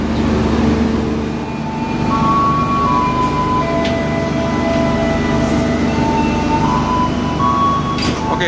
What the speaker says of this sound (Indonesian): kereta api Ijen Express berangkat dari stasiun Malang untuk pertama kalinya ya